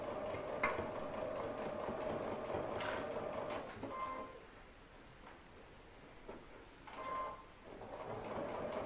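A sewing machine stitches a small triangle pouch, running in bursts of mechanical whirring that pause and restart, with a brief backstitch and light handling noises in between.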